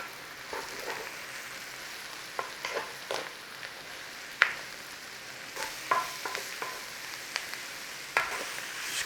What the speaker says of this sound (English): put that flavour in that buttery oil, and then we're going to whack the mushrooms in there.